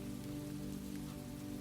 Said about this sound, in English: The rain deepened for a moment, filling the lane with a whispering sound.